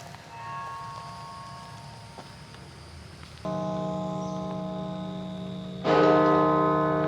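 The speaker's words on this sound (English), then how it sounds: "Oh, I can hear the bells." Bok Tower church bells in Florida ring out at a distance, each new strike swelling louder with a long humming decay layered over the previous tone.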